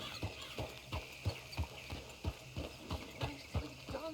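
Horse hooves in Red Dead Redemption 2 beat out a steady, rhythmic clip-clop at a gallop, each footfall distinct and evenly spaced, fairly close with faint ambient background.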